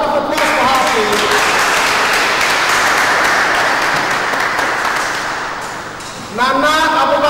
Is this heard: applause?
yes